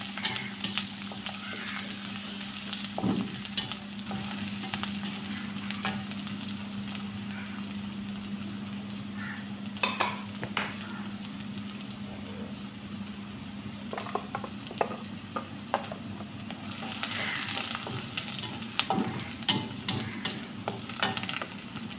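Shallots frying in oil in a pan, a steady close sizzle with a faint hum beneath, scattered crackles and the occasional scrape of stirring, with no one speaking.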